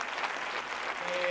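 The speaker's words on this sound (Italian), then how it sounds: "Facciamo un applauso a questi ragazzi, sono fantastici." Brief burst of audience applause for a group of kids at a zoo tour event, a steady wash of many hands clapping at moderate loudness with no talk over it.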